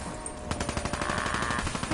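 Rapid video game gunfire aimed at zombies, a dense burst of repeated shots starting abruptly and continuing steadily, loud and close with no talking over it.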